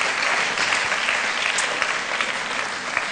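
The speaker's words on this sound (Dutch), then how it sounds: "Applaus." Audience applause at a public debate on sexual harassment in Amsterdam, a continuous loud wash of many hands clapping that fades slightly toward the end.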